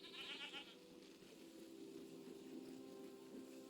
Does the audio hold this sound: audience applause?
no